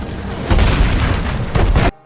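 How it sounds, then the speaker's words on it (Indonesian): A homemade bomb blows up an enemy camp in the war film The Woman King, with two loud, deep booming blasts a second apart before the sound cuts off abruptly. "Naniska dan pasukan Agoji telah siap meledakkan bom itu"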